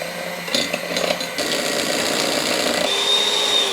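Electric hand whisks beating mascarpone cheese produce a steady, fairly quiet high-pitched motor whir with some brief clattering at the start.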